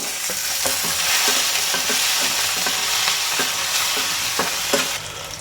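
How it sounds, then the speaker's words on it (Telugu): Sliced onions and green chillies fry in a pan with a continuous close sizzle, broken by repeated soft knocks and scrapes as they are stirred. "ఆనియన్స్ ఒక రెండు అయితే కట్ చేసుకున్నాం సో అవైతే వేసుకొని ఫ్రై చేసుకున్నాం"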